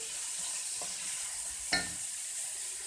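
Wax gourd browns in hot oil with star anise, giving a steady soft sizzle throughout, broken once by a sharp utensil scrape near the middle and a fainter tap earlier.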